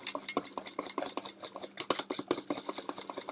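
Vanilla is stirred into a chocolate mousse mixture, with rapid, close scraping and tapping of a utensil against a bowl in an uneven, continuous rhythm and no speech.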